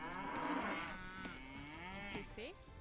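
A cartoonish cow moos once in Age of Empires II, a long wavering bovine call with a rising, strained ending, loud and alone over a quiet game soundscape.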